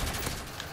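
Gunfire sounds in a Call of Duty: Modern Warfare 3 match, a dense, loud burst of shots that fills the whole short moment.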